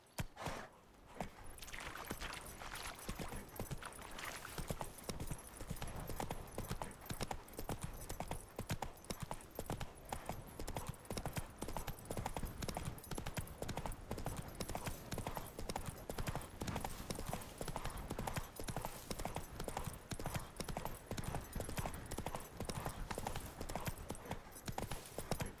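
Geralt's horse Roach galloping in The Witcher 3, with hooves drumming in a fast, steady, continuous rhythm, loud and close throughout.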